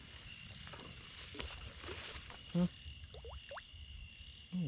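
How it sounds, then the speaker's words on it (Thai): Frogs call at night near water during frog fishing, with a few brief, faint croaks over a constant drone of insects and crickets. "เสียงกบตัวน้ำ"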